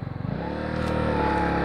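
Honda CB125R motorcycle engine running steadily on the road, a continuous close drone that settles after a brief rising rev at the start.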